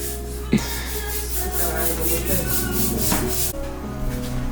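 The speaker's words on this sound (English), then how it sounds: "Oh, beautiful sanding there, Kawai." Steady rubbing of sandpaper on wood at an off-grid cabin build on a remote island, a continuous scratchy swish with a low hum underneath and a couple of sharp knocks.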